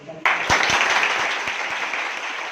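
An audience at a coaching-centre gathering bursts into applause for a student who scored 650 of 720 on the NEET exam, the clapping starting abruptly and continuing evenly with a few sharper claps standing out.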